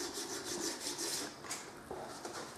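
An ice skate blade scraped by hand with a broken piece of angle-grinder disc to remove burrs, giving a steady run of close, gritty rasping strokes without any speech.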